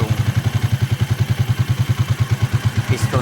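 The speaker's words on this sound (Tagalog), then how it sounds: "medyo gaganda pa yung andar ng makina" A Rusi TC 100cc motorcycle engine converted to a CG 125cc and freshly overhauled runs at a steady idle, close and loud with an even rapid thumping pulse, a brief higher sound near the end.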